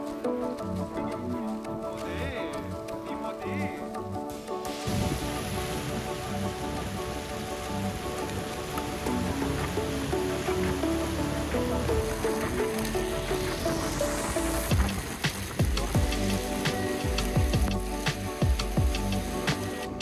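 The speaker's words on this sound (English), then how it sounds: "Since it was getting kind of wet and gloomy and rainy," Steady rain falls through a motorbike ride back toward the city on a wet, gloomy day, a constant broadband hiss and patter mixed with road and engine rumble, loud and unbroken for the whole stretch.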